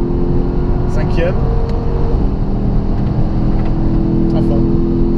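A Lexus GS F with a 477 hp 5.0 L V8 accelerates at full throttle on a track, a steady engine drone heard from inside the cabin under an instructor's continuous talk.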